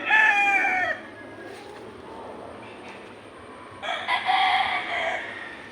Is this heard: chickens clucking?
yes